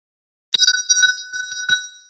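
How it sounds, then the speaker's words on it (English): A bell rung in quick bright strikes, about five clear dings with ringing overtones, starting after a short silence and sounding close and moderately loud. "that's how they used to ring the bells"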